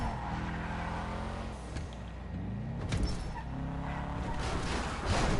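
Sultan RS Classic car in stock form driving in GTA Online, a continuous engine drone with rising and falling revs and gear shifts, steady and close, with no talk.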